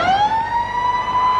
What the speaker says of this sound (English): with the siren in the background